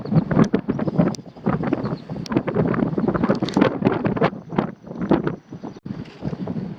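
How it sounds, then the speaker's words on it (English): Strong wind on a roof buffets the microphone in rough, rumbling gusts, loud and continuous with brief lulls throughout. "as you can tell, it is windy."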